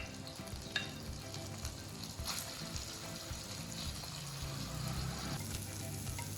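Ginger and garlic sizzle steadily in melted butter in a pan, a continuous close crackling fry with occasional stirring scrapes throughout.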